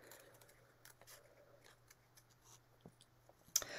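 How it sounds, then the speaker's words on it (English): Scissors make small, faint snips while fussy cutting paper for card making, a few scattered quiet clicks in a hushed room, ending with one sharper snip. "the easiest way to fussy cut is to turn your paper, not the scissors"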